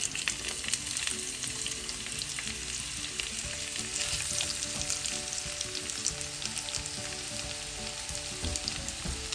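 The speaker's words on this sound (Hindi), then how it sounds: "ठीक है, अब हम इसमें प्याज डालते हैं।" Sliced onions frying in hot oil in a pan while dum biryani is being cooked, a loud, steady, crackling sizzle with faint stirring scrapes and no talking.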